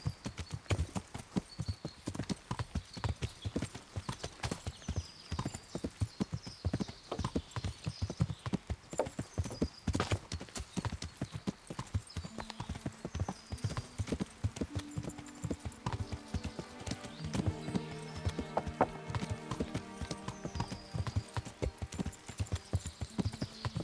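Horse hooves clip-clopping in a steady galloping rhythm while riding in the medieval game Kingdom Come: Deliverance, with an occasional whinny and a musical score rising in the background.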